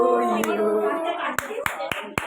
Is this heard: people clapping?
yes